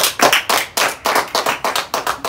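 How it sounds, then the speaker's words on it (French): A small group claps in unison at an intergenerational fresco workshop, about a dozen sharp, rhythmic beats in quick succession, close and clear with no talking. "Bah, vous pouvez vous applaudir aussi"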